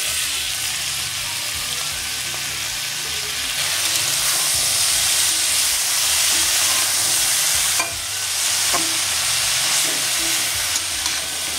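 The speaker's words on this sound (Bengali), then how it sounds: "এবারে এই শিম ভাজার মধ্যে আমি কেটে রাখা বেতের শাকটা দিয়ে দেবো।" Bathua greens fry in a pan with flat beans already cooking in oil. A loud, hissing sizzle runs throughout and swells in the middle, with occasional stirring scrapes and clicks and no speech.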